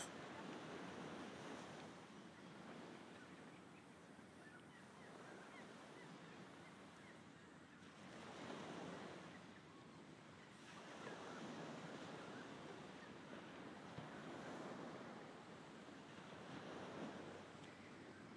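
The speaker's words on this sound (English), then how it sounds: "Listen to the ocean." Ocean waves wash in on an island shore, a very faint, soft rush that swells and recedes in slow surges, with wind noise beneath.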